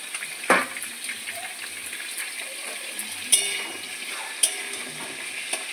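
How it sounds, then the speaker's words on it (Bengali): Vegetables sizzle gently in a pan for a chicken stew, a steady low hiss of frying with a few sharper clinks and stirring scrapes and no talk. "সবজিগুলো একটু হালকা ভাজা হতে থাকবে"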